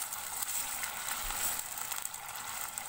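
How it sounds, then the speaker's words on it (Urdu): Chicken frying on a high flame for Peshawari charsi karahi gives a steady, soft sizzle with faint crackles, continuous and fairly quiet with no voices. "چکن کو ہائی فلیم پہ تقریباً 5 سے 6 منٹ کے لیے فرائی کرنا ہے"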